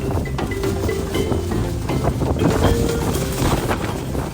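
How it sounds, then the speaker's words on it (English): Strong wind buffets a microphone in Bermuda, likely aboard a moving boat, as loud, continuous rumbling gusts with no voices heard. "Did I mention it was windy?"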